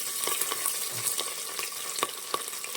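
Curry leaves and sliced onion frying in hot oil in a pan for vegetable-dal-potato rice khichdi, a steady close sizzle with scattered crackles and pops throughout, no voices.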